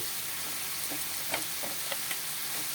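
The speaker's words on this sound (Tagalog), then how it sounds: "napagisa na po tayo ng bawang, sibuyas, kamatis, saka yung black beans" Garlic, onion, tomato and black beans sauté in a pan with a steady, soft sizzle, and a few faint clinks of a spatula stir through it.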